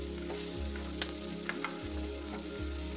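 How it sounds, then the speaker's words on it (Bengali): Chopped onions fry over a medium gas flame in mustard oil in a wok. A dense, continuous sizzle with small pops runs over a steady low hum from the burner. "এখন গ্যাসের আঁচটা মিডিয়ামে রেখে পেঁয়াজটাকে একটু ভেজে নেব"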